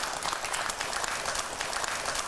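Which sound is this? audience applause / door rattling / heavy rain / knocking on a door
audience applause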